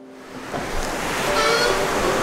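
A big set of waterfalls on a river in the Laurentian Mountains rumbles as a broad, hissing wash of water that swells louder over a couple of seconds, with faint tonal traces but no clear talk.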